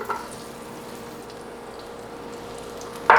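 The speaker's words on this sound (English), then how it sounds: "Now comes the fun stir-fry part." Onions sizzle and fry in olive oil in a pan for a beef stir-fry, a faint steady crackle under a low hum, ending in a brighter burst of hiss.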